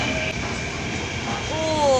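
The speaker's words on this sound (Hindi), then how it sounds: "मेट्रो आ गई," A Delhi metro train pulls into a station on a hazy day, a steady loud rumble of wheels and carriages with a rising squeal near the end as it slows, and no voices over it.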